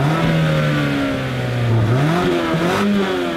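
A car engine revs up steadily under load, its pitch climbing and wavering as it accelerates, loud and close with no talking.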